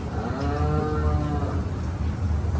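A Haryana buffalo lows loudly and steadily in a long, deep moan, close by, with no voices over it.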